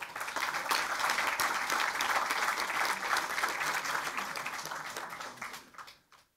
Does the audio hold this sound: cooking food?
no